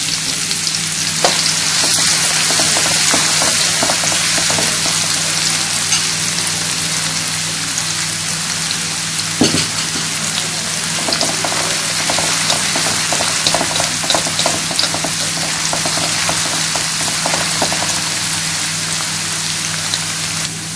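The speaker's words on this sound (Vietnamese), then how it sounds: "Mình phi vàng như thế này rồi mình sẽ vớt ra nha." Shallots, garlic and lemongrass fry in hot oil for chili lemongrass chicken, a loud continuous sizzle with crackling pops and occasional stirring clatter, close up and with no talking.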